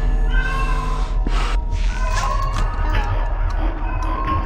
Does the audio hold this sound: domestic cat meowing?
yes